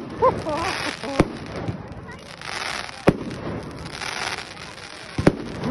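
A new 500-gram fireworks cake with 30 mm shots fires in sharp, loud bursts spaced a second or two apart, with crackling between them and voices talking underneath.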